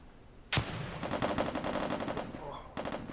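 Gunfire in a multiplayer shooter video game, one sharp shot followed by rapid automatic bursts, a second burst near the end, moderately close and loud.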